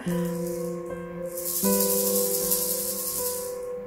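Baby toy with beads inside rattling in steady shaking bursts, a bright close hiss of beads over a sustained tonal hum.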